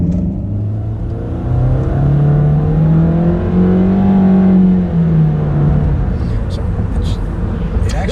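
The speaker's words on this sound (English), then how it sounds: "This sounds like a CVT in this car." A 2015 Nissan Altima with a CVT transmission accelerates, its engine holding a loud, steady droning tone that swells and slides in pitch rather than stepping through gears, heard close and continuous.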